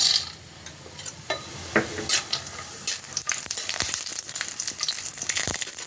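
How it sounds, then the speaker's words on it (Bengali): Bori lentil dumplings frying in hot oil in a wok, a close, bright sizzle that swells and crackles steadily, with occasional stirring clinks and taps, no voices. "কড়াইতে তেলটা দিয়ে দিয়েছি, তেলটা গরম হয়ে গেছে। এখন এই বড়িগুলো ভেজে নেব।"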